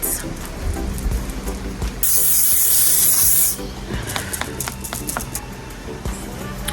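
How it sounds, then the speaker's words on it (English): A single sustained spray of makeup finishing spray hisses close by for about a second and a half, set against quieter rustling and handling noises before and after. "I'm going to be going in with this finishing spray"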